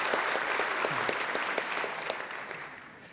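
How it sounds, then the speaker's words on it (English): Conference audience applause for presenters at a tech event, steady dense clapping throughout that tapers slightly toward the end, with no talking over it. "please give a warm round of applause for Paweł and Paul"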